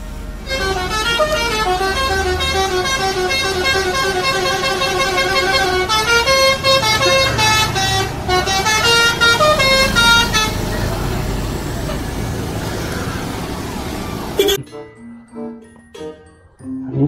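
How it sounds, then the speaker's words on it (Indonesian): A Pandawa 87 bus passes close by, sounding a loud musical multi-tone horn melody over its engine rumble for about fourteen seconds before the horn cuts off, leaving quieter traffic noise. "Lanjut lagi teman-teman, kali ini ada bus Pandawa"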